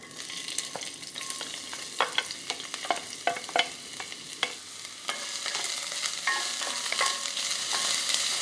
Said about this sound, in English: when the butter has melted, we are going to add the onions or shallots, whatever you prefer